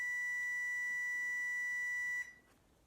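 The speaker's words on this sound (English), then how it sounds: "That was just the timer on my sink, or on my stove." A kitchen stove timer gives one steady, high electronic beep lasting about two seconds, then stops abruptly, leaving a faint room hush.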